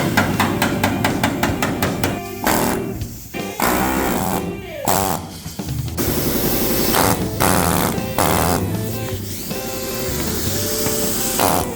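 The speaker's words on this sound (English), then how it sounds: "Trying to straighten some dents." Sharp metal hammer blows ring out repeatedly, straightening dents in a VW Bus body panel, some in quick bursts, with short pauses between groups of strikes.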